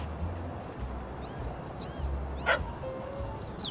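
A dog barks a few scattered yips and woofs in the video game Little Kitty, Big City, moderately near over steady background ambience, with faint bird-like chirps.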